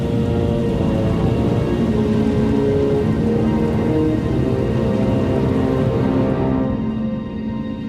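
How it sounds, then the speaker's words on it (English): Steady, heavy storm rain pours in the Star Wars: The Old Republic video game, a dense, loud hiss on surfaces with a low rumble beneath, continuous and unbroken. "Looks like the storm's not letting up anytime soon."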